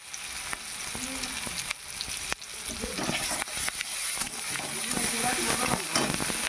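Peanuts drop into a hot frying pan and sizzle steadily, with the crackle and hiss building over a few seconds and a few stirring scrapes.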